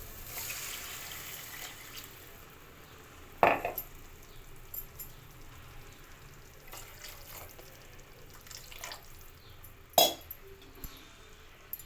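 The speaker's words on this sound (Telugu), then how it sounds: "వాటర్ పోసుకోవాలి." Water poured into a pan of egg pulusu, an egg curry cooked in oil, makes a soft steady splash, with two sharp metallic clinks of a utensil against the pan.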